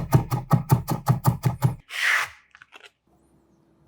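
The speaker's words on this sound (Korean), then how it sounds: "빠질 수 없는 통마늘 두개 다져서 준비하고" A knife chops two whole garlic cloves on a cutting board in about nine quick, evenly spaced thuds, close and crisp, then a short scraping sweep and a few faint taps before quiet.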